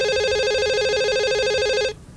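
A telephone rings loudly in a steady warbling electronic trill for about two seconds, then cuts off, leaving faint room noise in a Doctor Who scene about a writers' strike.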